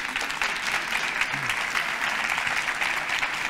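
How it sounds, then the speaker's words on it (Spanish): A seminar audience applauds loudly and continuously at a dog grooming event for English setters and cocker spaniels, with steady, even clapping from start to finish. "Un fuerte aplauso."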